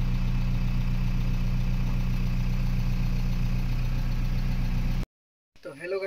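A stone-loading machine's engine runs at a steady idle with a low droning hum and faint clatter as labourers load stones, continuous and close for about five seconds before cutting abruptly to silence and a brief bit of noise.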